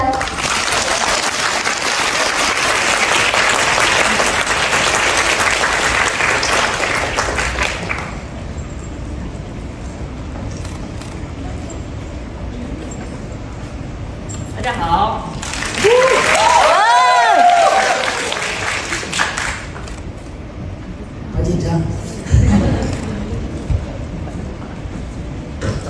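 An audience at a United Nations Chinese Language Day event applauds to welcome a singer, loud dense clapping for several seconds that fades, followed by quieter room sound and bursts of cheering and clapping later.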